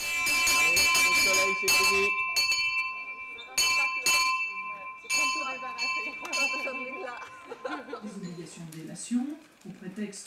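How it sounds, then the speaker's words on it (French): A bell rung to open the conferences at the Cerisy colloquium, giving bright repeated metallic strikes with ringing tones near the start, heard under people chatting nearby. "Cette cloche annonce le début des conférences et c'est en général le directeur du colloque qui l'actionne."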